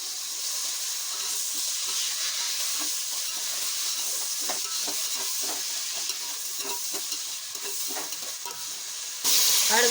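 Chopped tomatoes cook in a pan for chicken biryani, a soft continuous sizzle and hiss broken by repeated scraping stirs, with a louder burst of sizzling at the very end.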